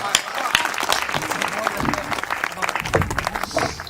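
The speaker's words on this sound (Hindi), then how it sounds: "जोरदार तालियां बजाकर इस युवा का स्वागत करिए।" Audience applause welcomes a young poet onto the stage at a Hindi kavi sammelan poetry event, a dense, steady wash of clapping running throughout, with a voice speaking over it.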